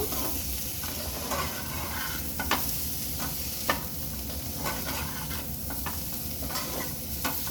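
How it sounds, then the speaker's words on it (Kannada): Egg bhurji with freshly added coriander leaves fries in a pan, giving a constant loud sizzle, while a spatula stirs and scrapes with sharp intermittent clicks against the metal, close up and with no talking. "ಈಗ ಲಾಸ್ಟಲ್ಲಿ ನಾವು ಕೊತ್ತಂಬರಿ ಸೊಪ್ಪು ಹಾಕ್ತೀವಿ. ಹಾಕಿ ಚೆನ್ನಾಗಿ ಹುರ್ಕೊಳ್ಬೇಕು."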